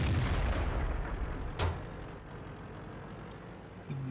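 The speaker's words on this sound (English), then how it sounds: "I'm pretty sure that was an HE round." A high-explosive tank round fires in a tank battle game, one sharp booming shot cutting through a loud, steady rumble of engine and battlefield noise, with a small thump near the end.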